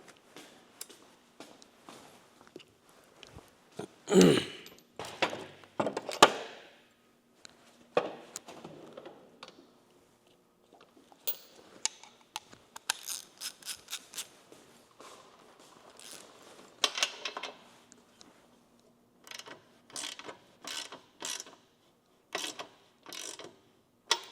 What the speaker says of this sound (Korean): 뒤에 거 17mm 이것도 잠가 줄게요